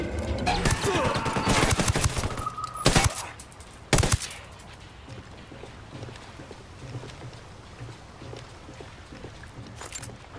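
Gunfire from a military shooter video game set in the Ghosts story mission Operation Kingslayer: loud bursts and sharp shots in the first four seconds, then quieter distant rumble and sporadic pops.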